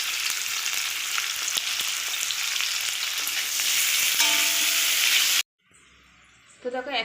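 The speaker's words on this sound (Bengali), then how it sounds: "আগে আমি উচ্ছেটা ভেজে নেব। একটু লবণ আর হলুদ দিয়ে ভেজে নেব।" Pieces of bitter gourd fry in hot oil with salt and turmeric, a loud continuous sizzle with faint stirring clinks that cuts off abruptly, leaving quiet room tone and a brief rattle afterward.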